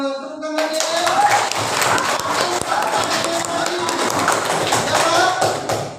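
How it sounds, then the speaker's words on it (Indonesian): An audience claps hands together, dense and steady applause filling the room at close range, with a faint voice at the start. "Tepuk tangannya."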